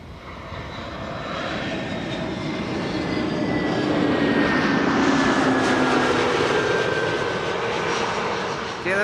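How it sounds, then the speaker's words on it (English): KLM Airbus A321neo at Amsterdam Schiphol, its engines a loud, steady jet roar with a rising whine that holds for the full stretch, building slightly toward the middle and staying strong near the microphone. "KLM 321 Neo."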